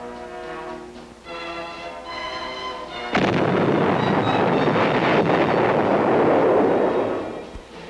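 A Sheridan tank fires its Shillelagh weapon system. A few seconds of tonal, music-like sound give way to a sudden loud blast, then a sustained roaring rush that fades near the end.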